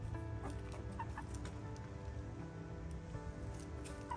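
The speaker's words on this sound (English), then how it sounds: "Hi ladies, how you doing chickens?" Backyard chickens cluck steadily and close by, a continuous chorus of hens with no talk over it.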